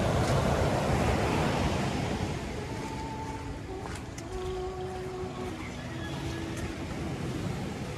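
Ocean waves wash onto Las Animas beach near Puerto Vallarta as a loud broad surf roar that eases slightly after the first seconds, with wind buffeting and faint distant tones underneath.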